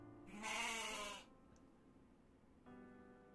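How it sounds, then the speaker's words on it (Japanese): A sheep bleats in two long, wavering calls, the first loud and close and the second softer, with a low steady background hum between them. "羊の音うるさい、"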